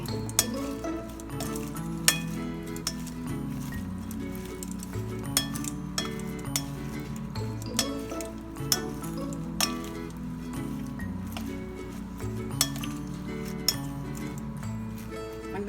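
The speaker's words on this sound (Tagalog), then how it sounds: "Haluin lang natin." Utensils clink repeatedly against a bowl while a pansit pansitan salad is stirred with sauce, a soft rhythmic series of light chinks over a quiet background.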